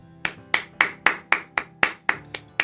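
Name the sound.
round of applause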